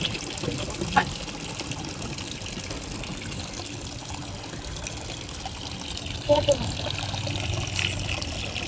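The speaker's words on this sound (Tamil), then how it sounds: "தண்ணி தண்ணி போனது" Water trickles and pours quietly in the background while voices talk over it.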